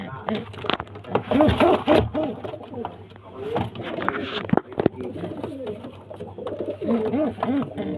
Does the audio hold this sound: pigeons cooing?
yes